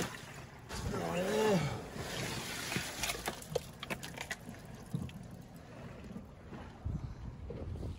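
Wind gusting over the sea from a boat close in along the headlands near the Great Barrier Reef, a steady broadband rush with microphone buffeting, a brief tonal whine early on and scattered knocks throughout.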